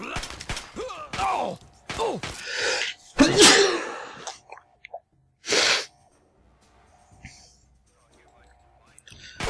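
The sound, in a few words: sneeze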